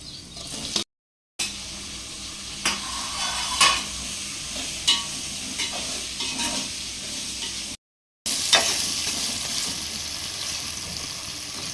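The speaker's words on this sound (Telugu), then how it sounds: "ఇప్పుడు కట్ చేసిన టమాటా వేసుకుందాం" Chopped tomatoes frying with ginger in a pan for fish curry: a continuous close sizzle with occasional stirring scrapes, interrupted twice by brief dead silences.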